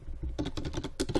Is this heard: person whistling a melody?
no